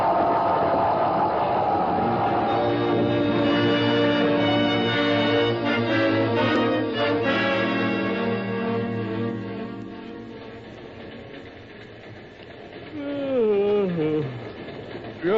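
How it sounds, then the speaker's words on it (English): A milk train, steam-powered, rumbles past with chugging, clattering rhythm and a drawn-out whistle near the end, staged as a radio sound effect. "Milk train coming. Milk train coming."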